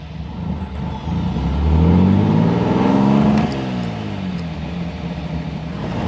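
A 1957 AC Ace Bristol accelerates through the gears on the road, engine note climbing loudly, easing at a shift, then settling into a steady cruising drone, heard close from inside the car.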